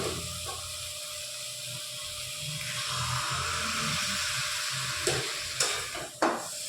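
Soybean and potato curry with spices, with a little water added, gets stirred in a sizzling pan: a steady frying hiss under soft scraping strokes, with a few sharper knocks of the spoon near the end.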